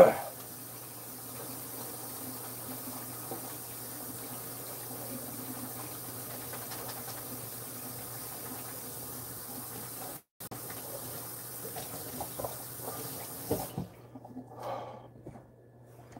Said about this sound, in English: I said I better wash my hands. I better wash them.